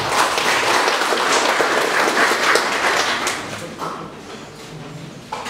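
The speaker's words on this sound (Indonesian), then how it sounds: "Tepuk tangan dulu." Audience at a Bandung city ceremony honoring model Sakinah families breaks into loud, dense applause that fills the hall, then gradually thins and fades over about five seconds.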